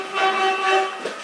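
Vehicle horn sounding one steady, tonal blast held for about a second, loud and close, cutting off at the end.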